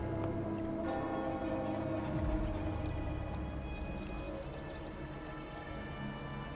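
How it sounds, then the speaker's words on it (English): A bell tolls in the Wuthering Waves video game, a resonant strike whose long ringing hum fades slowly beneath a background ambience, heard with no talk. "Hear that? The bell they tolled."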